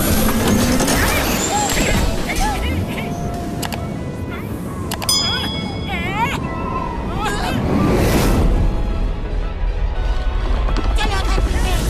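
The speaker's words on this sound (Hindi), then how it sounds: "मोटू, वो देखो समुंदर।" Cartoon sea waves surge and wash continuously beside the shore, with chimes, clopping and mechanical effects layered over the surf. Voices speak throughout.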